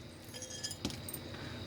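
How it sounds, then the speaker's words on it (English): Random pieces of broken glass from a thrift store mystery box clink faintly and sparsely, a few light chinks and one sharper tap over a low background hiss, with no talk. "random pieces of broken glass."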